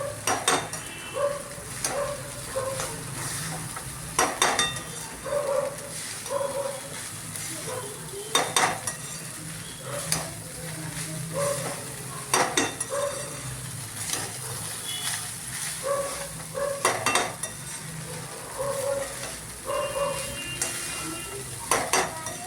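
Poha mixed with onions in a hot pan, a spoon scraping and stirring in repeated strokes over a steady sizzle, with occasional sharp clinks of utensil against metal, close and fairly loud.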